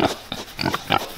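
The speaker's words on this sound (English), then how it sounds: "check on the piglets" Piglets with their mothers in a farm pen grunt and squeal in quick, close bursts, several short overlapping snorts in an uneven chatter with no voices over them.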